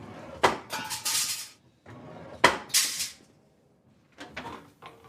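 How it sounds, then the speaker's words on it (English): A guillotine trims a copper sheet to size while a 1950s-style kitchen sink is being made, heard as two sharp metallic cutting strokes followed by a shorter, fainter clatter, close up with quiet gaps between them. "Using a guillotine, Ted trims the copper to size."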